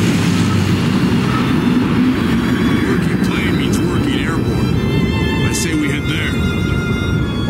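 A loud, continuous airplane roar passes overhead in Left 4 Dead, a dense engine rumble that holds steady throughout while a voice talks over it midway.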